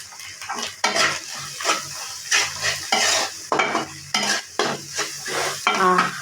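Maggi noodles with masala are stirred in a frying pan, a spatula scraping in regular strokes about once a second over a soft, continuous sizzle, close and fairly loud.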